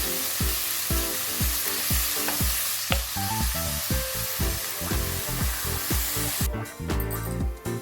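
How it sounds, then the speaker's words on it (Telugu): Onions frying in a pan for an Andhra-style pesara vadiyalu curry, a steady loud sizzle with repeated rhythmic stirring scrapes throughout and a brighter hiss near the end; no talking. "వీటిని బాగా ఫ్రై చేసుకోవాలి. ఒక 5 to 10 minutes పడుతుంది ఆనియన్స్ బాగా ఫ్రై అవ్వడానికి."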